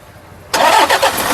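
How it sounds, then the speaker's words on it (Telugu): A 2.5-litre Toyota Innova engine cranks briefly and catches, then settles into a steady, loud idle close by with slight fluctuations. "సింగిల్ సెల్ఫ్లో కార్ స్టార్ట్ అయితే ఎటువంటి స్టార్టింగ్ ట్రబుల్ అయితే లేదు"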